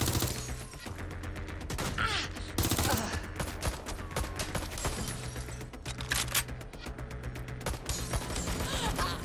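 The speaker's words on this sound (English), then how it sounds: "Shots fired!" Gunfire in Watch Dogs: Legion, with dense bursts of automatic fire and scattered single shots crackling over a steady game soundtrack for several seconds.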